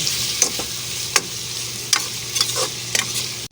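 Marinated chicken frying in a pan with garlic gives a steady sizzle, with a few sharp clinks and scrapes from stirring at uneven intervals and a faint low hum underneath.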